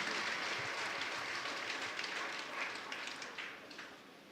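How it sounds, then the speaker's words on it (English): Audience applause at a Buddhist Dharma teaching in Taiwan: a steady, dense patter of many hands clapping that carries on evenly, then thins and fades toward the end. "Thank you for your applause."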